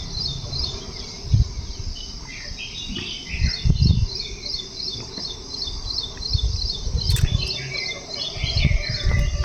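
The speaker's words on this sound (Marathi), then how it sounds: "पक्ष्यांचा आवाज ऐका।" Birds call across a village morning in repeated high chirps and occasional squawks, with insects buzzing and low rustling thumps and handling noises close by. No one speaks.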